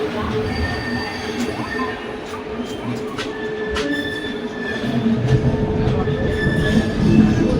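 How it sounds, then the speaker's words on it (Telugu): A passenger train pulls out of Kacheguda station, its wheels rumbling and squealing on the rails in a steady heavy roll that grows slightly louder and busier toward the end, with faint voices in the background. "సో 5 minutes లేట్తో ట్రైన్ అయితే స్టార్ట్ అయిపోయింది."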